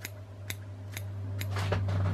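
Scissors snip the hair tips on a Maine striper fly being tied, several crisp, close metallic clicks spaced about half a second apart, followed by a denser run of quick cuts against a steady low hum.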